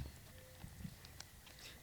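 Horse hooves clip-clopping in an outdoor garden skit, a few faint, uneven hoof knocks over steady background noise, heard alone without speech.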